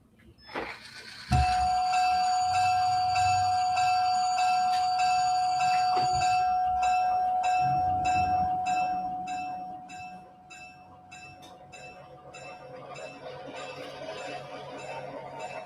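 Model train starting up with its bell ringing, a sustained tonal ring and steady repeated clangs over low rumbling, fading somewhat after a while as the train runs on.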